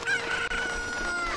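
Chickens in the video game Zelda Ocarina of Time cluck and crow over a dense, bright game soundscape, with a steady high tone running through it and no speech.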